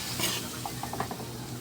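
String beans (sitaw) with small shrimp saute in a pan with a little water added, giving a soft steady sizzle under a few quick scraping stirs and light clinks of a utensil against the pan.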